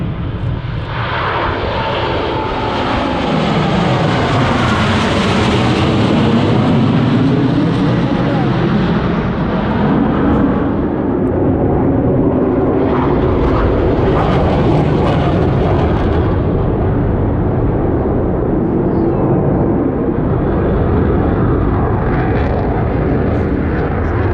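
Loud roaring jet engine noise from U.S. Navy Blue Angels jets flying a tight minimum radius turn at NAS Pensacola, swelling and shifting in pitch as they sweep past, a commentator's voice faintly underneath.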